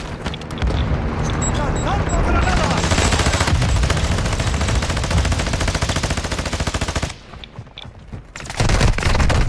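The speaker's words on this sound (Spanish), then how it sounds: "Nos están disparando por detrás." Dense bursts of gunfire and explosions in Call of Duty Warzone DMZ rattle almost continuously, loud and close, with voices talking over the shooting.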